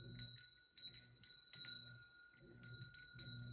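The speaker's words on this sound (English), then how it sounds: "I'm gonna ring the bell." A small bell is rung several times to open a tarot reading, bright clear strikes that ring out and fade, repeating in a loose rhythm close by in a quiet room.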